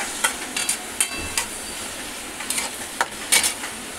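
Oil heating in a pan for roasting, a soft hissing sizzle underneath sharp intermittent taps and scrapes of a spoon against the pan, close by and without talk.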